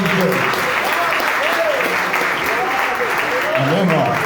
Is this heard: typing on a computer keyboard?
no